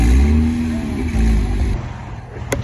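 A Porsche GT3 sports car revving hard at a Porsche-only Cars and Coffee meet, a loud, close engine roar that rises and then eases off over a few seconds.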